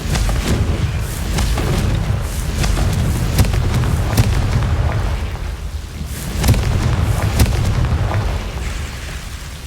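Repeated heavy magical blasts from the Confringo fire spell in Hogwarts Legacy, several booming bursts across the clip over a dense, rumbling combat background, loud and close.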